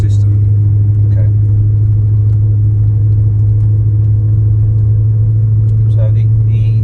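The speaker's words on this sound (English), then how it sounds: "So the exhaust sounds fantastic." A manual Ferrari 360 Spider sits with its engine running, the exhaust giving a loud, steady, deep rumble that holds level throughout, with faint voices in the background.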